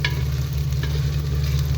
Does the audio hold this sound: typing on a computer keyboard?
no